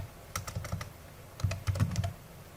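Short bursts of keystrokes on a computer keyboard while entering an AutoCAD command, a few quick clustered taps, a pause, then another faster run of clicks, close and fairly quiet with no talking.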